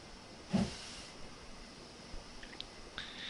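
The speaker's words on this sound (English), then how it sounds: "I'm going to sand in the rails so we have lots of grip as well." A steam locomotive sanding the rails in Train Simulator (Settle to Carlisle route): a short burst of hissing steam, then quieter hisses and faint high squeaks against a low mechanical background.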